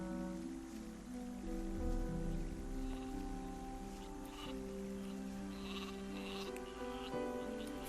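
Sheep bleat repeatedly in the Gothic 2 video game, several voices overlapping over steady rain and ambient game sound, at moderate distance with no talking.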